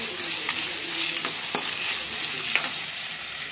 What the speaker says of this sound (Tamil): சேர்த்து நல்லா வதக்கி விட்டுருங்க